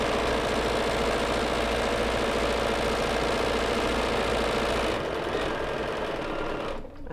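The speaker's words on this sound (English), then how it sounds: "I'm gonna go ahead and move over to the sewing machine" Sewing machine stitching fabric for a foundation paper pieced quilt house block, a fast steady mechanical whir running continuously for several seconds before slowing and stopping near the end.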